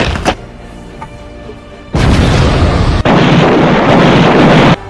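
Booming cannon fire from the Meriam Anak Makassar cannon in a battle scene of a Sultan Hasanuddin film: two loud, sudden blasts, each followed by a sustained roaring rumble.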